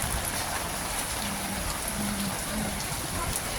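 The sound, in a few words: rain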